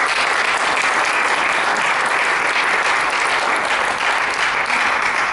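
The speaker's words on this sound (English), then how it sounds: "Give a round of applause." An audience gives a sustained round of applause during a live session, steady dense clapping from a crowd that holds evenly for several seconds.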